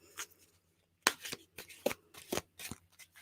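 Tarot cards being shuffled by hand in short crisp bursts, several quick riffling flicks separated by brief pauses, close and fairly quiet with no talking.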